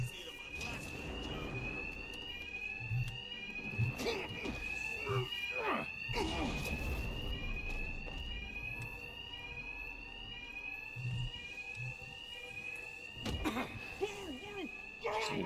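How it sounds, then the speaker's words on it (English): An alarm rings during a stealth mission in Batman: Arkham Knight, a steady repeating electronic tone that pulses without a break. Thumps, impacts and game voices sound over it. "My attacks will be covered by the noise of the alarm."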